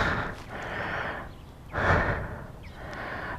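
Heavy, labored breathing from a man pushing a Suzuki GSX-R motorcycle home over several miles, with three long loud breaths in slow succession close to the mic.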